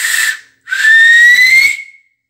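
Loud finger whistle, a short shrill blast followed by a longer piercing tone that slides slightly upward with breathy hiss, close and alone.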